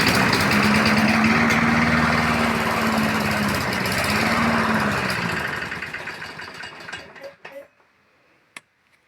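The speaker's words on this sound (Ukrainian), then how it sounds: "газонокосилка еле заводится стреляя стреляя стреляя" A Briggs & Stratton 675 series lawn mower engine runs roughly with a low droning hum, backfiring as it struggles, then sputters and dies away, leaving a few faint pops and clicks.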